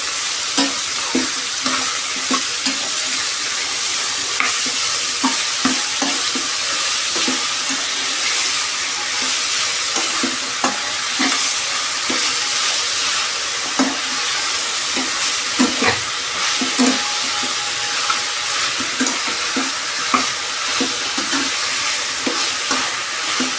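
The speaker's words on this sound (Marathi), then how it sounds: "आपण थोडासा या भेंडी जरा परतून घेऊया." Okra (bhindi) sautéing in a pan for a Marathi bhendi rassa bhaji, with a steady hissing sizzle and regular scraping stirs throughout, close and alone without talk.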